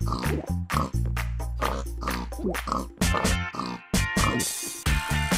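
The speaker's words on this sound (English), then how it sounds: "Why am I grunting? I think she turned you into a pig." A pig grunts and oinks in a Minecraft animation, with several short snorting grunts in quick succession over loud background music and sound effects.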